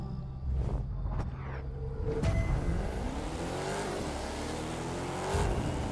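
A car engine in the video game The Crew 2 revs hard and races, climbing through gears with rising and falling whines, loud and close, tires squealing now and then, no talking.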